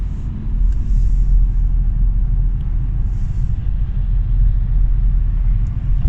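An Audi A6 cruises in fourth gear at 2000–3000 rpm, heard from inside as a steady, loud low-frequency engine and road rumble without speech.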